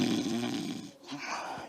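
A voice imitates snoring with a couple of rough, drawn-out throaty rasps, close and alone, mimicking a man sleeping soundly in a boat during a storm.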